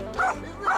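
A dog in protection training gives two short, close barks about half a second apart.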